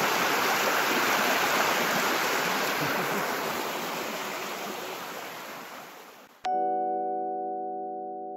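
Rushing stream water at Biak na Bato, a loud continuous broadband wash heard close up that fades gradually before cutting off abruptly, after which a sustained tonal sound plays.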